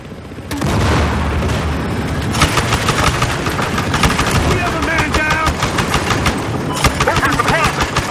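Rapid bursts of .50 caliber machine gun fire in the video game Battlefield Hardline, loud and sustained, with sharp rattling volleys and booms layered over constant battle noise.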